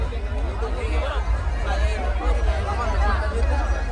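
Dense crowd chatter at a village fair (yatra), an even babble of many voices close around, with a nearer voice speaking over it.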